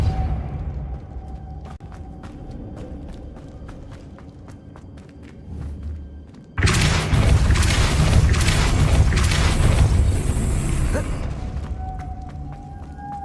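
A Depulso spell cast in Hogwarts Legacy: a run of evenly paced footsteps over a low hum, then a sudden loud, dense rushing blast that holds for several seconds before easing off.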